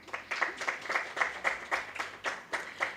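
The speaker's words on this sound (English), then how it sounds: "Can we give her a round of applause?" Evenly spaced, fairly faint claps at a technology and innovation forum in Africa, the audience falling into a quick regular rhythm as a guest engineer joins the stage.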